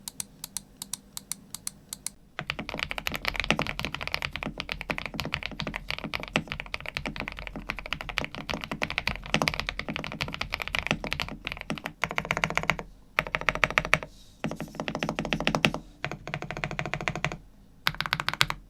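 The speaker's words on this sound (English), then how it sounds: "I also put in some silicone padding and tape modded it, so the keyboard sounds very thocky" Rapid, continuous typing on a custom mechanical keyboard that has been hand-lubed, fitted with silicone padding and tape-modded, giving close, deep, thocky keystrokes in bursts with a few brief pauses and no speech.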